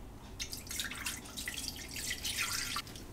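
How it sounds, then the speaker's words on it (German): Liquid for yeast milk pours into a Thermomix mixing bowl in a steady, splashy trickle with dripping, close and alone. "Wir geben 250 Gramm in unseren Mixtopf."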